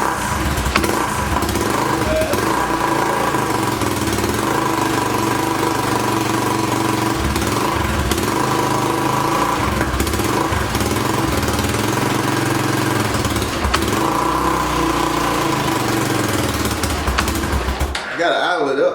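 A 2006 Honda TRX300EX four-wheeler ATV engine running after starting, a loud, close, steady mid-pitched putter with slight rhythmic variations that cuts off abruptly at the end.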